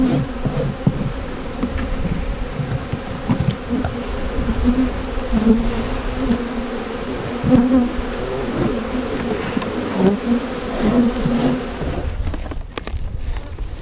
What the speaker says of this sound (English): open the cover and there's all of these bees.